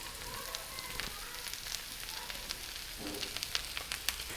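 Chicken pieces with carrot, cabbage and green onion sautéing in a hot pan, giving a steady close crackling sizzle with scattered sharp pops throughout, no voices.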